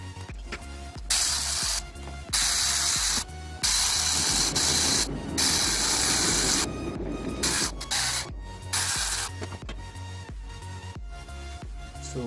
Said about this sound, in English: So I'm gonna go ahead and bolt it down now.